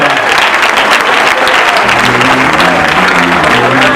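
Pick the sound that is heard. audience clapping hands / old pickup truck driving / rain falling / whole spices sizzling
audience clapping hands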